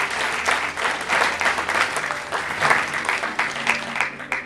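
Steady, full audience applause at a speaking event at Callaway Gardens, a dense wash of clapping honoring a couple's 30th wedding anniversary, continuous and fairly close for several seconds.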